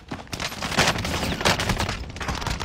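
Rapid bursts of gunfire in a shooter video game, sharp repeated shots in quick clusters, loud and close throughout with no talking.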